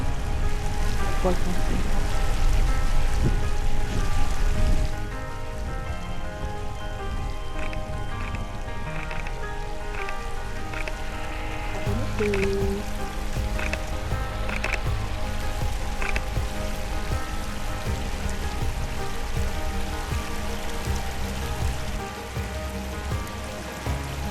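Heavy rain pours outdoors during a downpour near water where an otter swims, a dense, steady hiss of drops hitting surfaces throughout, with faint talk occasionally beneath it.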